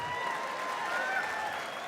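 An audience at a stand-up comedy show claps and applauds in a short, even burst. It sounds moderately distant, with a faint voice over it.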